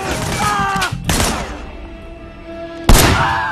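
Gunfire in the Sleeping Dogs game comes as a few sharp, loud shots spaced apart, each cracking out over a busy game background with ringing tones between them.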